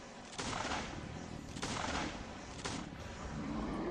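Video game gunfire booms in several heavy shots about a second apart, the reports ringing out over a steady background hum.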